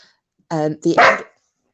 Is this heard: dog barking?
yes